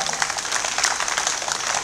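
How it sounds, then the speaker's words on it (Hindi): An audience at a Hindi poetry gathering in Kharak-Bhiwani applauds, a brief dense burst of clapping from the crowd that holds steady for under two seconds. "एक बार तालियां बजाइए"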